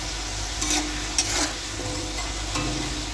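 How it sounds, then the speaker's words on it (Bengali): Long strips of potato cut like chips fry in hot oil with a dense, continuous sizzle and a few sharp crackles, close and fairly loud. "আলু হচ্ছে লম্বা লম্বা করে চিপসের মতো করে ভাজা হচ্ছে"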